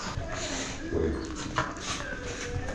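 A dog whimpering indoors in soft, short whines over a low background hum, fairly faint and close.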